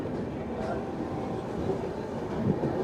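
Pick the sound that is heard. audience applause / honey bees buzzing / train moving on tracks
train moving on tracks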